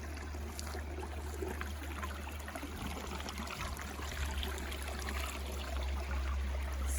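River water flows steadily over rocks past pools and sandy stretches beside a forest, a continuous soft rushing and trickling that sounds fairly close, with no voices.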